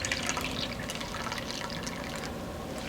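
Warm milk poured into a bowl of baking mixture with olive oil and egg, a short steady liquid trickle and splash heard close up for a few seconds.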